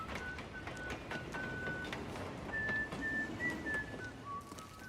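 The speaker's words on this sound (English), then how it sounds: "And the whistling." Whistled tune from a scene in The Wire, a thin wavering melody carried over a steady rumbling background, a few drawn-out notes rising and falling across several seconds.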